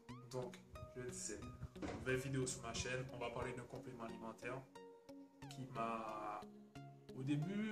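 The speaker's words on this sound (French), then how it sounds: "Excusez-moi, c'est mon chat." A pet cat meows now and then indoors, its cries mixed in with someone talking steadily at close range, all quite quiet.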